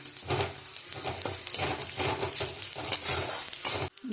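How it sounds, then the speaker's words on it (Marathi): Raw masala, sesame and poppy seeds sautéed in hot oil, a close, busy sizzle with rhythmic scraping and stirring strokes repeating every half second or so, steady and fairly loud until a sudden drop at the end. "हा कच्चा मसाला आणि ही खसखस मस्त तेलात आपण सगळं मस्त"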